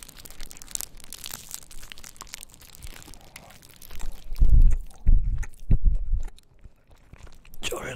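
Carrot-flavoured baekseolgi, a soft Korean rice cake, is bitten and chewed close to the mic in a quiet setting, with a few soft moist chews building to several louder crunchy bites near the end.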